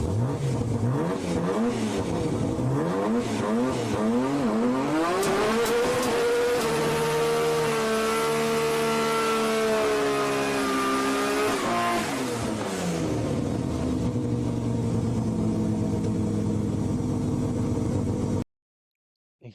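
An HPI radio-controlled car does a burnout, its small engine screaming in a loud, sustained rev that climbs, holds a high whine and then falls back before cutting off abruptly near the end.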